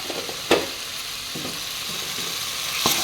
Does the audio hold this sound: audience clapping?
no